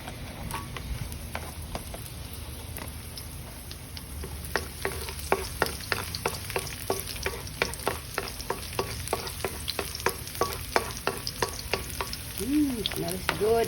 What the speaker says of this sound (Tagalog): we're gonna saute the garlic